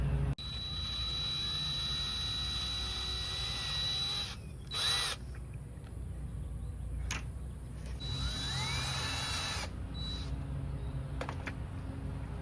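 A power drill drives and tightens bolts while a Bestop Slantback soft top is installed on a Jeep TJ, a continuous near whine with short revving changes and brief stops, no talking over it.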